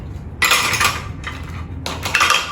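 Close metallic clatter of camping nesting cookware as a rice paddle is handled, two bursts of clinking and rattling of pots and utensils separated by a brief lull.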